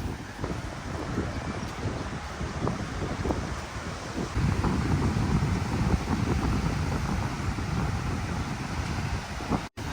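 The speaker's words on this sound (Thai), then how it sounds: "วันนี้ลม ลมแรงมากก็แล้วคลื่นแรงด้วยนะครับ" Strong wind gusting at Jomtien beach in Pattaya, a loud, continuous rumbling roar buffeting the microphone, with surf washing underneath and swelling louder midway.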